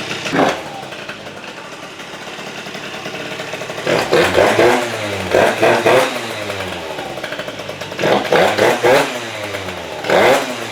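A Malaguti Phantom F12 race scooter engine, run on castor oil after months unused, idles with a raspy two-stroke clatter between several sharp revving bursts, loud and close.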